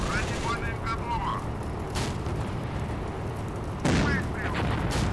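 In the tank game Steel Fury, a T-50's cannon shell strikes a Panzer II. A dense rumbling blast rolls under a voice, with another sharp impact near the end.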